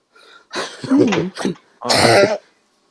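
A person coughs several times in quick bursts, close to the microphone, the last cough harsher and throatier.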